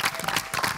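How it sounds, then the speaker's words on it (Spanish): A television studio audience breaks into a loud burst of applause and cheering for a guest, a short, dense wash of clapping. "un fuerte aplauso para Alicia Machado."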